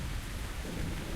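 A thunderstorm in the Siren Isle zone of World of Warcraft gives a brief, loud, dense roar of thunder and rain that fills the whole sound.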